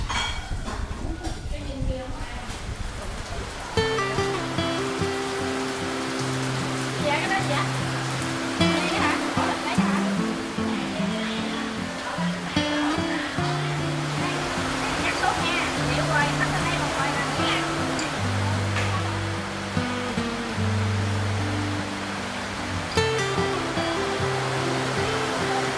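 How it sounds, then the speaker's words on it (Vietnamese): Heavy rain falls with a constant loud wash during early-morning cooking preparations for a death-anniversary feast in the Mekong Delta, with a steady musical tone and voices heard under the downpour. "Bây giờ thì trời mưa lớn lắm"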